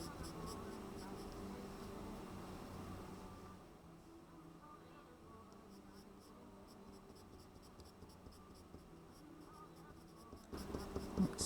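A pencil shades hard across paper, a steady soft scratching texture that runs throughout, close and quiet, with a brief louder rustle near the end.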